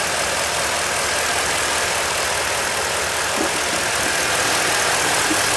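Toyota truck with a 5.7 engine idling during a water pump job, a steady, loud, unchanging broadband drone heard close up with no other sounds.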